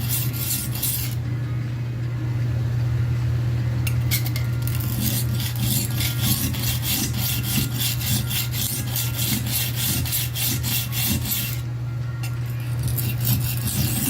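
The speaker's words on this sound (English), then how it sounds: "this is really all it is to keeping your knife sharp" A knife blade being sharpened on a two-sided carborundum stone, with a rapid run of rhythmic gritty rasping strokes, close and moderately loud over a steady low hum, pausing briefly between passes.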